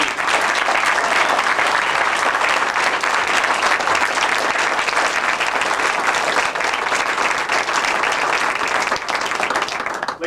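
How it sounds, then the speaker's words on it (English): Loud, dense applause fills a hall for the honorees at an Army journalism awards ceremony, many hands clapping steadily and evenly for about ten seconds before tapering at the very end. "more round of applause for all of our awardees"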